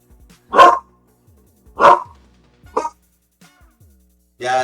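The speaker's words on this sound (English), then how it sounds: "I see the guy walking his dog" A dog barks close and loud at a man walking his own dog past, three sharp separate barks with pauses between, then a brief voice at the end.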